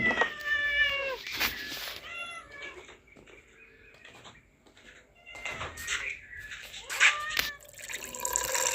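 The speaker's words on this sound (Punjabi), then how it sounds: "ਅੱਜ ਮਾਣੋ ਆ ਗਈ ਕਿਧਰੋਂ ਹੀ ਪਤਾ ਨਹੀਂ ਕਿਧਰੋਂ ਆ ਗਈ" A cat meows repeatedly, with several drawn-out, wavering cries heard close by between quieter gaps and light background clatter and running water outdoors in the morning.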